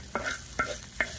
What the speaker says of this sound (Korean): 만능 간장 넣어갖고 지금 볶은 거야?